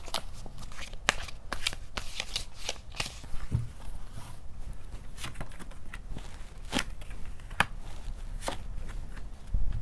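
Tarot and oracle cards, including Lenormand-style decks, being shuffled and drawn by hand, with a steady rustling riffle broken by sharp repeated snaps and flicks as cards are cut and laid down, close and fairly loud, no talking.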